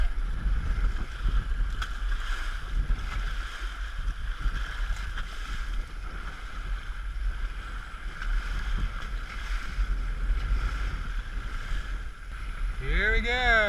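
A sailboat out on the water off Cancun, with steady wind and water rush across the microphone throughout and a low rumble of hull and waves. A voice comes in briefly near the end.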